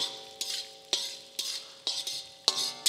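Ginger and green chillies lightly fry in a pan for majjige huli, stirred in about six quick, evenly spaced scraping strokes, each a short metallic swish above a soft sizzle.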